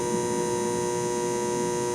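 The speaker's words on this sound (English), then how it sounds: "That buzz is constant and can be pretty irritating." An old outdoor shop light gives off a constant electrical buzz, a steady unbroken hum with bright overtones, close and alone with no one talking.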